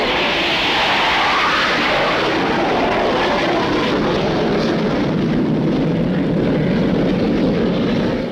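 Military jet aircraft from a Navy aircraft carrier roar loudly and continuously overhead in a steady, dense engine wash that lasts the whole stretch with no voices.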